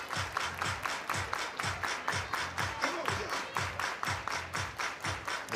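A softball crowd claps in a steady unison rhythm, about two claps per second, sharp and fairly faint at a distance, continuing alone without talk.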